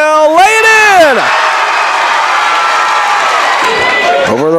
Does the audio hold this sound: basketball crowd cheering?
yes